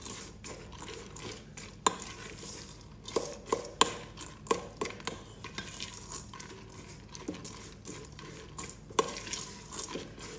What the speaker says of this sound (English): Give this a good mix through and then leave that to soak for about an hour